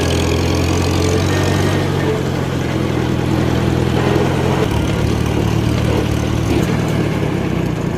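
The engine of a 1952 Studebaker 2R5 truck idles low and steady in a shop, a continuous rumbling chug with a slight drop in pitch partway through and no talking over it.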